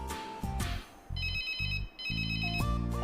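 A telephone ringtone in a Hong Kong TV drama scene plays a repeating electronic melody in short bursts with brief gaps, clear and close, with no voices over it.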